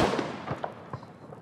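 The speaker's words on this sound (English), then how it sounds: "Never light fireworks in your hands." A quick cluster of fireworks pops and crackles, a loud burst at the start trailing into several smaller snaps that fade within a second or so.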